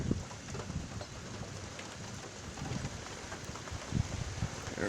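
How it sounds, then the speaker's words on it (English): Steady rain falls through a severe thunderstorm, a constant soft hiss with scattered louder drops and faint low rumbles, heard at a distance with no voices. "Here comes the rain."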